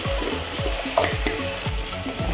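Turmeric and red chili powder fry in a pan for aloo palak, a loud close sizzle broken by regular scraping strokes of a spoon about every third of a second, no talking.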